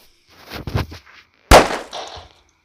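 A firecracker explodes inside a pumpkin with one sharp, loud blast and a brief scatter of debris, following a short stretch of quieter muffled rustling.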